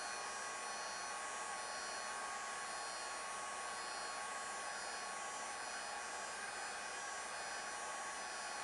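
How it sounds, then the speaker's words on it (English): A constant, loud whooshing blast of hot air from a heat gun removing an Optima car badge, steady and unbroken with a faint electrical hum underneath. "take your heat gun"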